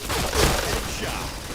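A short, loud wash of video game gunfire, a dense burst with one stronger hit near the start, continuous and close.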